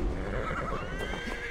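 A horse in the video game Assassin's Creed Valhalla gives a short, close whinny over steady in-game ambience, with faint hoof clopping underneath.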